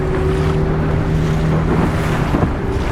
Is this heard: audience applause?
no